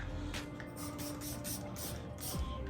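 A waterless car wash product is sprayed from a trigger bottle onto a car panel, producing about five short, sharp hissing bursts in a quick, even rhythm close to the listener.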